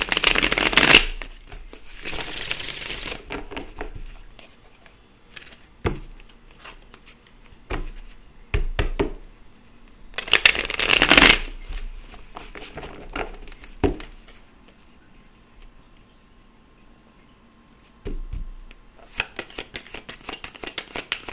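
Tarot cards shuffled in quick riffling bursts, alone and close, with a few short bursts separated by quiet gaps and scattered soft taps.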